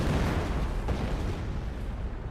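A continuous roaring rumble of an artillery barrage in the World War II strategy game Company of Heroes, dense and loud with overlapping booms that fade slightly toward the end.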